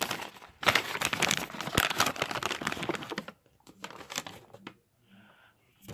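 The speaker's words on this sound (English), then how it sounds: "let me unwrap this real quick" An item being unwrapped, with dense, close crinkling and rustling of a wrapper for about three seconds, then a few softer scattered crackles and handling noises.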